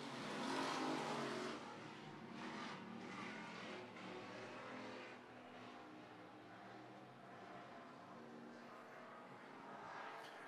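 IMCA stock cars race off a turn at a dirt raceway, a steady wash of several engines roaring together at middle distance, the pack's noise swelling early then holding constant as the field runs by.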